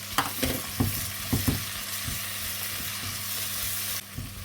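Chopped small shallots sauté in a pan for deer curry, making a steady close sizzle with a few spoon-scrape knocks early on and no talking.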